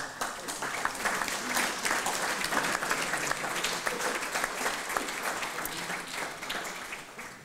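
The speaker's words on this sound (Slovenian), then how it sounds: "da si vsi skupaj zaslužite aplavz." A lecture audience applauds together in a sustained, dense burst of many hands clapping at close to moderate distance, steady from start to finish with no voices over it.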